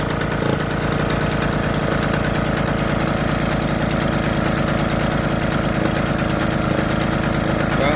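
An old Stuart Turner boat engine runs steadily up close with a rapid, even chugging beat and a slight exhaust leak, loud and continuous throughout.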